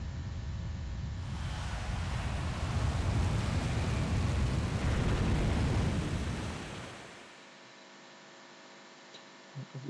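Water rushes back in The Legend of Zelda: Twilight Princess as a loud, broad roaring surge that swells for several seconds, then drops off sharply to a quiet background.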